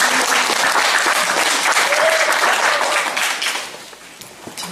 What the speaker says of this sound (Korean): 박수를 두 번 치시게요.